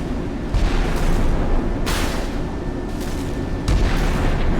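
Missiles slamming into the Australian Hobart-class destroyer in the naval video game Sea Power: a rumbling battle bed broken by several heavy, booming impacts spaced about a second apart, loud and fairly close.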